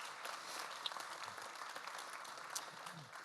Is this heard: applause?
yes